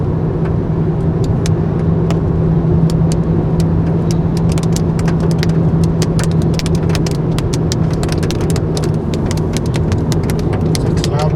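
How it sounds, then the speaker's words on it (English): A rain cloudburst drums on a moving car in California, heard from inside the cabin as dense, irregular patters and drop hits over a loud, steady road and engine rumble. "That's rain. And it begins."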